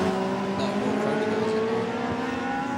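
Radical race cars at speed on the Barcelona circuit during a European Masters race, engines droning loud and steady with rising pitch as they accelerate, a continuous mechanical roar.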